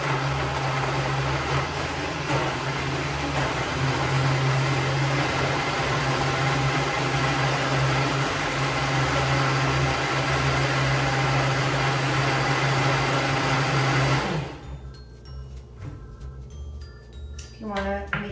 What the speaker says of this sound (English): Put the top in the blender and let's get ahead and mix it up.